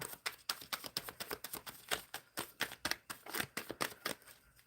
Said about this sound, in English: Shuffling for Tarika